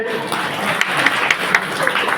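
Audience applause at a stand-up comedy show in the Malnad region, a steady, dense wash of clapping lasting the whole moment, fairly loud and close, with a voice faintly underneath.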